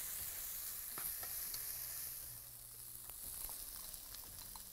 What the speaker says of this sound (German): Weiter brauche ich ca. 5 Minuten anbraten.